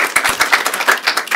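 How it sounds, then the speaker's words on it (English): An audience applauds panelists at the close of a veteran employment panel: a brief burst of close, crisp hand claps in a quick, uneven patter, with no talking. "If everyone could join me in giving our panelists a round of applause."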